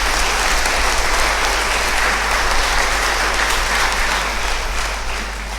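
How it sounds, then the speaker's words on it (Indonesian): A Catholic parish congregation at the opening of CYD 2024 claps for Serui, a loud, sustained wash of many hands over a low hum, easing off slightly at the end. "Maka tepuk tangan untuk Serui"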